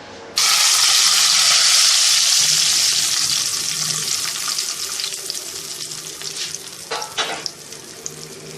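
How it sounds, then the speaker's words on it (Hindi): Light-brown garlic tempering (baghar) hits bottle gourd (lauki) raita with a sudden loud sizzle that starts abruptly, hisses steadily, then slowly settles into softer crackling and bubbling. "देखें हमारे लहसुन के साथ लाइट ब्राउन अच्छा सा कलर आया है, बस इतना ही आपको रखना है और फिर आप इसमें बघार लगा दें"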